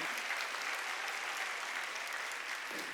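A church congregation applauds during a Sunday worship service, steady dense clapping from a large crowd that holds at an even level for the whole stretch.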